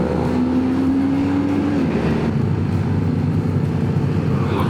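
A BMW R12 1300 limited edition motorcycle engine rumbles steadily at close range, a deep continuous drone with a rising then settling whine as it revs, heard alone without talk.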